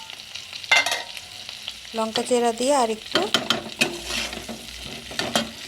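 Potatoes with salt, turmeric and green chillies fry in a pan and are stirred, giving a loud sizzle with scraping and clattering strokes. Someone talks briefly over the cooking sounds.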